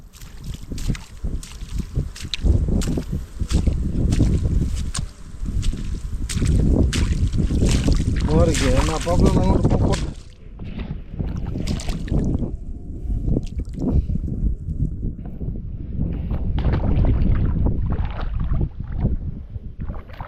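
Strong wind buffets and rumbles against the microphone in loud gusts, easing briefly midway before picking up again.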